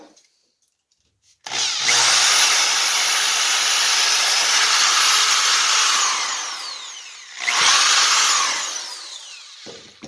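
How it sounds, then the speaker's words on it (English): A power drill with a 1/8-inch bit whines loudly and steadily into wood for several seconds, stops briefly, then bores again, close up. "go ahead and drill 1/8-inch drill bit."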